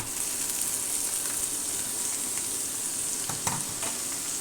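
Boiled kohlrabi tossed into a pan of frying egg, onion and chilli: a steady close sizzle with a brief stirring clatter partway through, and no talk.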